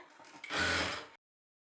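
A sewing machine runs in one short, steady burst while stitching a princess cut blouse, a dense whirring mechanical rattle that starts softly, swells for about half a second, then stops abruptly into silence.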